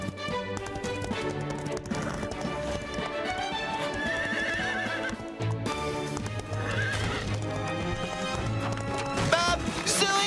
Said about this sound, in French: il ne faut pas faire peur aux chevaux!